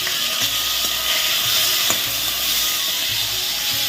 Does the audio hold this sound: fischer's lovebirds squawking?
no